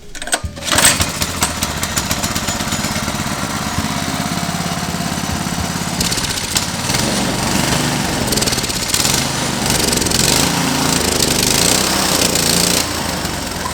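A GMC K20 truck engine runs loudly and steadily up close, with a rough, rattling mechanical drone that holds throughout with slight surges.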